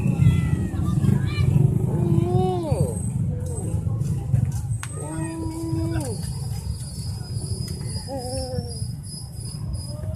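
A cat meows several times in drawn-out, wavering cries over a steady background hum at a public market in Angeles City, Pampanga, with insect-like chirping high above.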